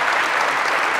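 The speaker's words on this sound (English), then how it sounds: "Let's have a round of applause." Applause from a lecture class at the end of a course session, a steady dense wash of clapping filling the whole second with no talk.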